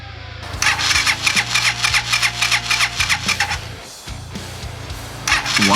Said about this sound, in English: Why isn't my bike starting?